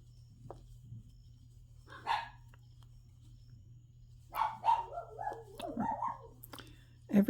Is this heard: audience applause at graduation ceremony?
no